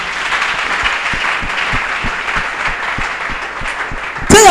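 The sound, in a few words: church congregation clapping hands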